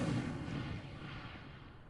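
A fire spell cast in the fantasy video game Hogwarts Legacy, a loud whooshing, booming burst of flame that flares at once and then rumbles away over the next second or so, with no talking.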